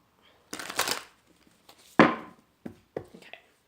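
A deck of tarot cards being shuffled by hand, a long riffling burst followed by several shorter separate shuffles and taps, close and fairly quiet, with no talking.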